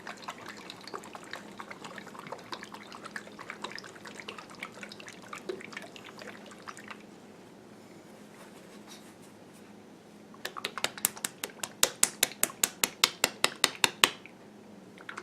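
A glass jar of rosemary oil with floating frankincense resin, handled and then shaken hard. Low sloshing and trickling give way to a burst of about a dozen quick, rhythmic liquid knocks near the end.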